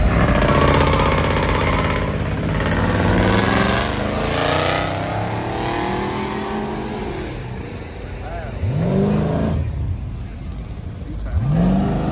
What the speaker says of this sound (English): They doing some burnouts